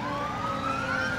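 A Schaumburg Fire Department fire truck sounds its siren in a Fourth of July parade, a steady rising wail ringing loud and close over crowd and engine rumble.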